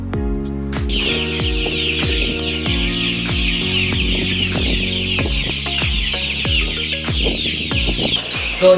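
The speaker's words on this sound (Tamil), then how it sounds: "So here we have the turkey chicks," Young turkey chicks at a poultry farm call in a steady series of close, repeated clucking cheeps, one every half second or so, with a brighter higher chatter from the flock behind.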